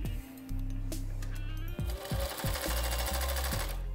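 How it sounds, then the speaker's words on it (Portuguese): Overlock serger stitching through two thick layers of fabric, a loud rapid mechanical chatter with rhythmic thumps as the machine runs, close up and alone. "Eu vou pegar aqui então duas camadas, o que é algo bem grosso, e vou passar na overlock."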